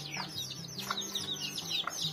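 A young chick, offspring of a Transylvanian naked-neck rooster, gives soft repeated cheeps and clucks close by, several short calls in an uneven rhythm over faint background noise.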